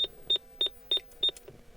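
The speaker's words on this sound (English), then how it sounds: "I'll plug this keyboard in so it stops that consistent beeping" Five short, evenly spaced electronic beeps from a Bondwell-16 computer with no keyboard connected repeat about every third of a second, fairly quiet, with a faint hum underneath and no talking.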